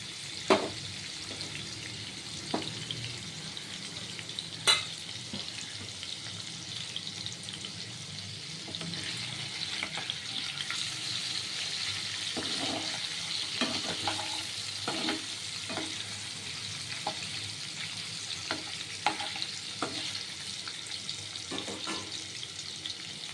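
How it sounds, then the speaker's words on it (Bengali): Paneer fries in a pan with a long, even sizzle and hiss, overlaid by scattered scrapes and taps of stirring, close and moderately quiet throughout. "পনিরে জল থাকে ভাজতেও সময় লাগে"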